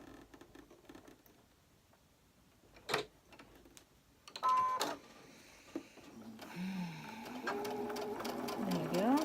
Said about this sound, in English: Just let the machine do all the work for you.